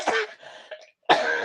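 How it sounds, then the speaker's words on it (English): A person coughs twice, close by, with a brief throat-clearing rasp between the two harsh bursts. "I don't know where this little cough's come from"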